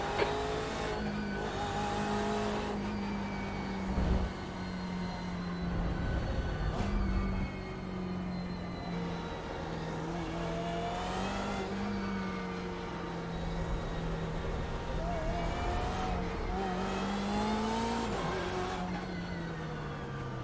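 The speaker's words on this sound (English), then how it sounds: "Revving the absolute tits out of the car when you're waiting to go doesn't help." A BMW M8 race car in the iRacing sim at Watkins Glen, its engine droning and revving in long sustained pulls with pitch rising and falling, several cars' engines layered together at close range, no talk.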